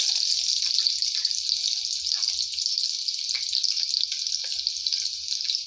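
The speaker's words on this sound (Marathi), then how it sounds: "तेल गरम झाल्यावर त्याच्यात मी हा ठेचलेला लसूण घालणार आहे" Crushed garlic dropped into hot oil in a pot sends up a steady, bright hiss of sizzling that runs unbroken and fairly loud from start to finish, with a faint low rumble underneath.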